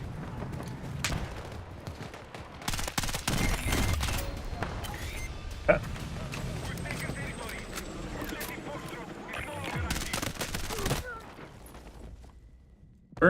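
Gunfire in the video game Battlefield 6, repeated bursts and single shots at varying distances amid a busy battle din, with people talking over it.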